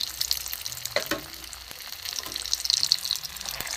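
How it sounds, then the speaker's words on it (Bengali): Batter-coated egg yolk balls fry in a pan of oil, giving a close, bubbly sizzle with scattered pops and a couple of brief knocks, fairly loud and continuous with no voices. "বন্ধুরা দেখুন ভাজা হচ্ছে আস্তে আস্তে"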